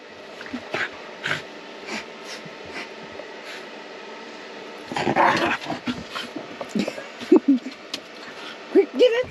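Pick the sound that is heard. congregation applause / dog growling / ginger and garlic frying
dog growling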